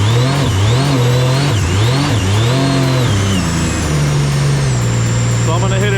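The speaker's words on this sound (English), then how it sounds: "I'm hearing like a whirring sound, like a woo" A Sea-Doo RXP personal watercraft runs with a loud whirring from its jet pump, the engine's pitch sweeping up and down repeatedly before settling into a steadier drone, close and continuous.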